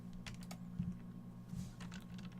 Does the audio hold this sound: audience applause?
no